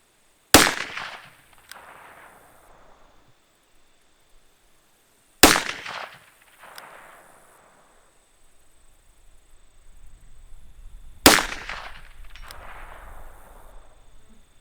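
Three loud pistol shots from a Taurus handgun at an outdoor range, spaced about five seconds apart, each a sharp crack followed by a fading echo, with faint background rumble between shots and no talking.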